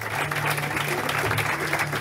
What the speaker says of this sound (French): que vous pouvez applaudir.